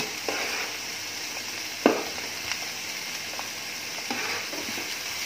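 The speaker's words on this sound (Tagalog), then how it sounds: "Then now I will add the onion" Onion frying in a pan with garlic for an ampalaya and carrot dish, a steady close hiss broken by a few sharp scrapes and clicks of a utensil, no voices.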